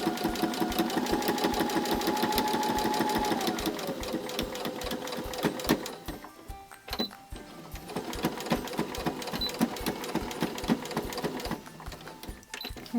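A sewing machine stitching a drawstring bag, backstitching a few stitches to lock the seam: a close, rapid mechanical whirring chatter that slows and shifts pitch midway, briefly pauses, then resumes in short bursts.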